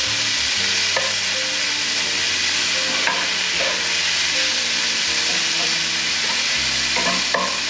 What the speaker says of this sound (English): the goal here is to render as much of this bacon fat as possible.